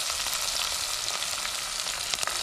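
Onion sizzling in hot oil for a home-cooked mixed vegetable palya, a loud, dense, unbroken crackle and hiss close by, with no voices.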